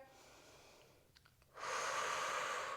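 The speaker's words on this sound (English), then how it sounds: "Take a nice deep inhale and slowly exhale" A deep inhale followed by a slow, louder exhale during a Pilates workout, close and breathy with a short pause between the two breaths, no talking.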